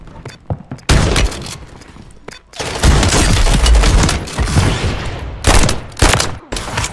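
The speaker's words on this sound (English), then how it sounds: "I'm gonna try using the shotgun, baby." Shotgun blasts in Warzone Resurgence gameplay come as several loud, sharp bursts with rolling echoes and rattling gunfire in between, close and dense through the whole stretch.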